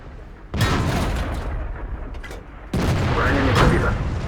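Heavy 122mm tank guns firing in the World of Tanks game, featuring a KV-3 and IS-2, producing two loud booming shots about two seconds apart, each followed by a rumbling tail.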